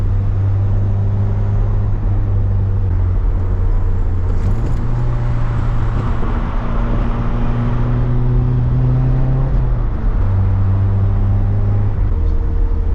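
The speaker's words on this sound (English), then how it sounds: "I wonder if this is the first time this car's ever even been heel-toed." A Toyota AE86 engine drones steadily while driving, its pitch stepping up and down as the car is heel-toe downshifted, loud and close throughout.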